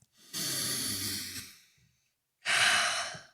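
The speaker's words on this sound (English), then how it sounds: "Take a breath." A slow, deep breath is drawn in and then released in a long sigh-like exhale after a short pause, close and clear with no talking.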